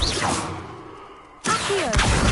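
Levioso levitation spell cast in Hogwarts Legacy, heard as a swishing whoosh that fades away, followed after a brief lull by a sudden loud magical burst with bright, sweeping tones.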